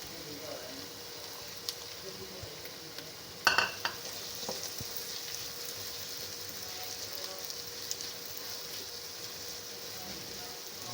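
Tomatoes fry in a pan for an Afghani omelette, a soft continuous sizzle with occasional stirring scrapes and one brief sharper clatter, quiet and close, with no speech.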